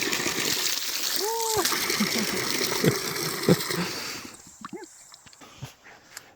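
Water from a newly installed well pump gushes and splashes steadily, loud and close, then tapers to scattered drips and trickles, with voices chiming in briefly.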